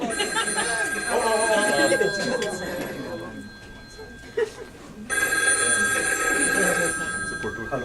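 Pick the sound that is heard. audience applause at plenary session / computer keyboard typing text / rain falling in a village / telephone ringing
telephone ringing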